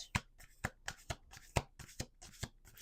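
Cards riffled and bridged in quick, crisp bursts, roughly every half second, close up with no talking.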